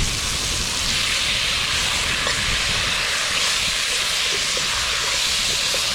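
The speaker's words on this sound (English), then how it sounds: "y'all hear that sizzle maneuver?" Steady, loud sizzling hiss of Filipino food frying in a hot wok, continuous throughout with faint clinks over it.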